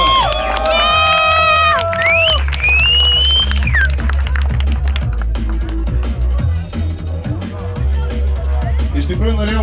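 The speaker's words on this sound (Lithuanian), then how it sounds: "Plojimai, palaiko publiką." A crowd at a timed race cheers and shouts loudly, with high whoops and yells near the start over a steady, rhythmic low thumping.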